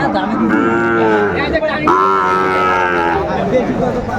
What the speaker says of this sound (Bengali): সুন্দর কালারফুল গরুগুলো।